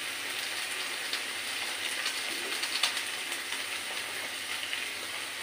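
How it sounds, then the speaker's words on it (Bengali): Ground spices, including chili powder and Kashmiri chili powder, sautéing in a frying pan for doi potol: a steady, dense, close sizzling hiss with faint crackles, continuous and without talk. "একটু ভালো করে কষিয়ে দেবো।"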